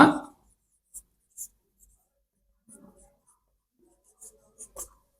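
A pen or pencil scratches out short handwritten strokes on paper while a math pattern exercise is worked through, several brief faint bursts with pauses between, after a short spoken sound at the start.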